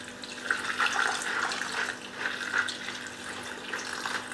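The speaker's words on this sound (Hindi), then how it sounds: "पानी डालते हैं, इस पानी इतना डालना है कि आपको इस पानी में ही इसको पूरी तरीके से गलाना है" Water poured into a pot of soaked black-eyed beans for cooking lobia, a continuous moderate splashing stream with gentle bubbling fluctuations, heard alone without speech.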